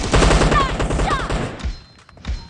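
Heavy rapid gunfire in a mobile shooter game rattles loudly in tight bursts with zipping streaks, then thins to a couple of isolated shots at the end.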